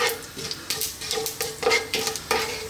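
Black mustard and cumin seeds sizzle in hot oil for a potato pumpkin curry, the steady frying hiss broken by repeated rhythmic bursts of stirring and utensil scrapes against the pan.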